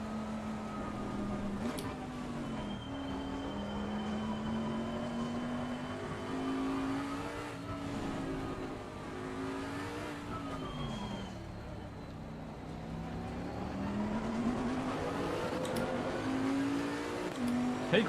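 A race car engine in Assetto Corsa Competizione at Laguna Seca drones continuously, its pitch rising and falling through gear changes and corners over a long stretch, with no voices.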